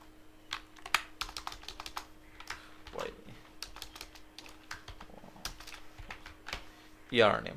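Rapid, irregular keyboard clicks, close and fairly quiet, from code being typed on a computer during a React JSX tutorial, with a louder rustle near the end.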